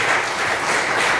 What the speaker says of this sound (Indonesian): Kasih tepuk tangan yang luar biasa.